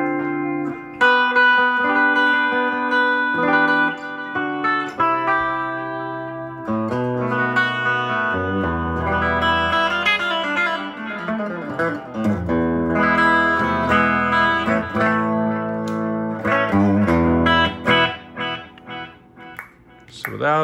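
Electric guitar playing melodic lines through a Boss DD-2 delay pedal set for slapback, each note trailed by a quick short echo, loud and continuous.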